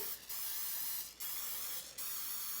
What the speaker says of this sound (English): So I spray all these quite generously,